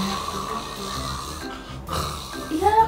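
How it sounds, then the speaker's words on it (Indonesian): A pregnant woman snores loudly while asleep, with rough, drawn-out nasal breaths and snorting, close and steady, a voice briefly audible near the end. "Aku tuh ngorok kenceng banget guys, kenapa ya?"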